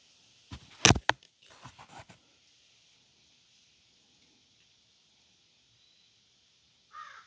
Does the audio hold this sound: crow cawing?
yes